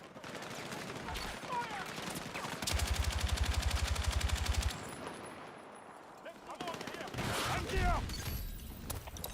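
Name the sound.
machine gun fire in a video game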